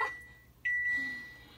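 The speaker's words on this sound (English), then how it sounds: "there's my timer" A kitchen timer beeps beside an oven while biscuits bake, with a short high electronic tone at the start and then a longer, louder sustained beep that trails off, all fairly close and with no talking.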